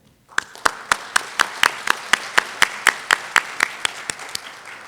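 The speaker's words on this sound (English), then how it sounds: "let's give them a big round of applause to welcome them." At a geotechnical engineering conference, a small audience welcomes guests with applause: after a short pause a sparse group starts clapping, with a few loud, evenly spaced claps standing out above softer hands.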